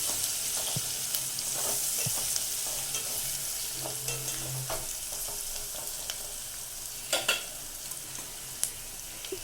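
Ingredients for egg biryani fry in a pan with a steady, soft sizzle while a spoon stirs them, adding occasional light scrapes and taps; no one speaks.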